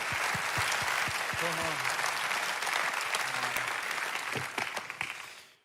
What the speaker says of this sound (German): Lass uns Gott einen Applaus geben für das.